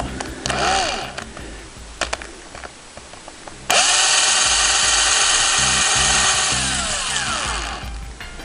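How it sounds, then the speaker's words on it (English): A small power drill with a small bit drilling pilot holes whirs in short bursts, then runs steadily at high pitch for several seconds before winding down. "I've got my small drill bit for the pilot holes"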